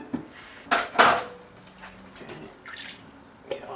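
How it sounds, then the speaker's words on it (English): Water is poured into a pan of vegan creamy pasta: a short pouring splash, then clinks and knocks of a pan and utensil, with faint sizzling and stirring sounds. No one speaks. "I'm gonna water this down just a little bit."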